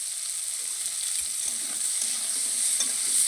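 Spices with turmeric powder and salt sauté in a pan for a fish and cauliflower curry, producing a continuous hissing sizzle with light scraping from stirring throughout.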